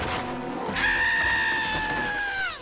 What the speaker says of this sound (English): we do get another goat scream